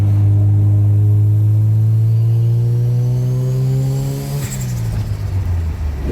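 A Mazda RX7 FD rotary engine with HKS Twin Power revs up in one long, loud, steady climb held close by, then the pitch drops sharply as it comes off throttle.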